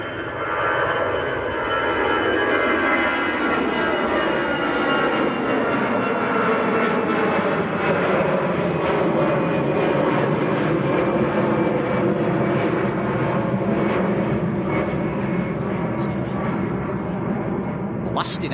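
An Austrian-registered EasyJet jet airliner taking off at Manchester Airport: a loud, continuous engine roar that fills the whole clip, broad and rumbling with a steady whine, close and sustained without letting up.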